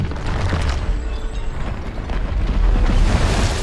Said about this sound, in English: The entire tower crumbles into pieces, collapsing more and more before erupting in one of the most satisfying explosions of all